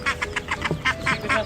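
A mother duck quacks in a rapid series of about eight loud, close calls in quick rhythm.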